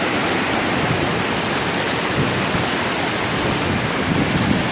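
A waterfall roars loudly and steadily, a dense, continuous rush of falling water heard up close with no break or voices.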